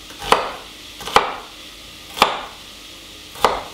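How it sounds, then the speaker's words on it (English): A kitchen knife strikes a cutting board four times at an uneven, unhurried pace during a rough chop of vegetables for a red kidney bean and lamb tajine. Each chop is a crisp, close knock, and no one speaks. "It's just a rough chop we want"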